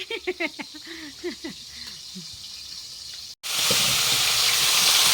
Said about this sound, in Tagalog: Prito mo na boy!